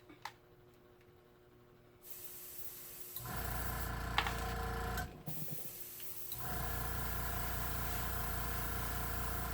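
A tumbler spinner motor turning a cup while Copic marker colour is applied, producing a steady mechanical whir that starts quietly, then steps up in loudness, briefly drops out and resumes, with a constant low hum throughout.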